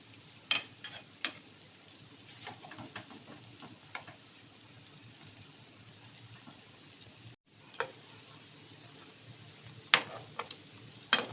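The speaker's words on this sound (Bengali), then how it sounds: "আঁচটা আস্তে করে এতক্ষণ ভেজে নিলাম যাতে ভেতর পর্যন্ত ভাজা হয়ে যায়" Thekua frying slowly in oil over low heat while the pieces are turned gives a quiet, steady hiss scattered with sharp clicks and taps from the utensil, and a short gap midway.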